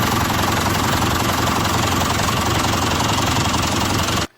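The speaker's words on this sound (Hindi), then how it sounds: "ये देखो जेसीबी और ट्रैक्टर आज जा रहे हैं हम मिट्टी की खुदाई करने। तो चलो ड्राइवर।" A JCB and a tractor set off to dig soil, their engines running loud and steady with a continuous rumbling, knocking drone that fills the whole stretch, alone and close, then cuts off abruptly at the end.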